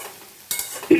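Spiced papaya curry is stirred and sautéed in a pan: a short spoon scrape is followed by a brief sizzle as the masala cooks, close and fairly quiet, with no speech.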